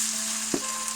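Marinated chicken sizzles steadily as it fries in a pan for a Chinese takeaway-style dish, a constant hiss with one brief louder stir-like burst midway.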